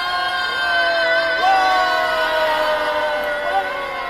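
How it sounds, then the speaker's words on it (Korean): A crowd shouts and cheers together at a protest in front of the Japanese embassy. The sustained, loud roar of many voices holds steady for about four seconds, with rising whoops standing out from the mass. "평화의 함성이 일본 대사관 앞 평화로에서 울려 퍼지고 있습니다"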